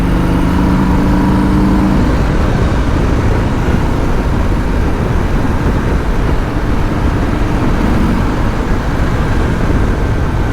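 A Harley-Davidson Fat Boy motorcycle running fast in high gear on a highway, a loud, constant roar of engine and wind rush that fills the whole stretch with no voices.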